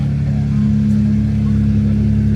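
A Mitsubishi 3000GT sports car engine idles nearby, a steady low droning hum that holds at one even level throughout.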